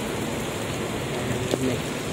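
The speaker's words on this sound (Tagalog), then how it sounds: "Ayan, inabot tayo ng ulan." Steady hiss of rain falling by Manila Bay, a soft even wash of drops with no voices, continuing for a couple of seconds.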